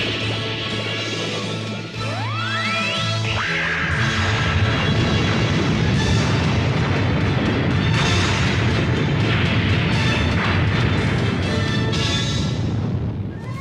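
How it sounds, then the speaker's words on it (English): A neutron cannon fires in the 1987 anime Robotech: The Macross Saga, a rising energy whine giving way to a sustained roar of blasts and explosions that rumbles on loud and dense. "Fire the cannon now!"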